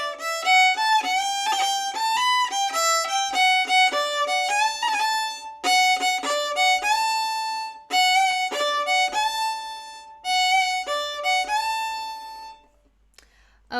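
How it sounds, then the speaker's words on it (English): Lively phrases of an Irish fiddle tune, played with bow changes instead of cuts, ring out clear and close, with short pauses between phrases and the bowing falling quiet near the end. "I will change my bow, and that gives the song or the tune a different feel."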